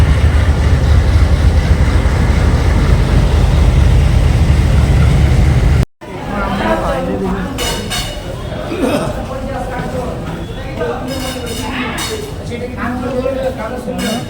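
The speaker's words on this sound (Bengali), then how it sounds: "এই ফার্স্ট টাইম ডিজের লোকোমোটিভ দেখলাম" A diesel locomotive at a railway station gives a loud, steady rumble for the first half; after an abrupt cut comes busier station noise with clinks and clatter, while people talk throughout.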